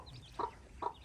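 A hen on a rabbit farm gives two short, close clucks about half a second apart over a soft outdoor background.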